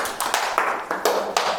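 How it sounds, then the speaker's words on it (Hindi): A small group at an acting workshop claps in applause, with about half a dozen sharp, distinct claps in a quick, slightly uneven rhythm, fairly close and alone. "क्लैप फॉर हर, ताली बजानी चाहिए इसके लिए"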